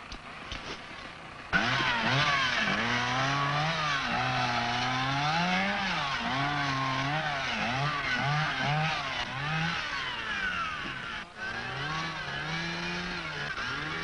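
A chainsaw runs steadily while cutting into a tree trunk, its loud engine holding a sustained whine that dips and rises with the load, near and unbroken after a sudden start.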